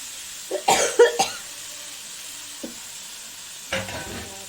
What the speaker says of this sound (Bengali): সাংঘাতিক ঝাল দিয়েছি কাশি পেয়ে যাচ্ছে